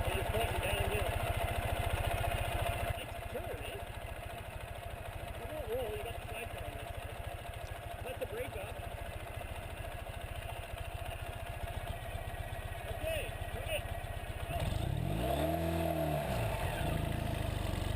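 A Ural sidecar motorcycle with about 40 horsepower pulls away in first gear, its engine chugging steadily and then rising in pitch as it accelerates, heard under ongoing talk.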